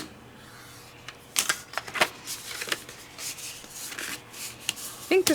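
A scoring tool pressing a fold line into thick cream-colored heavy cardstock, heard as close scraping and rubbing strokes with light taps and paper handling, irregular and fairly soft.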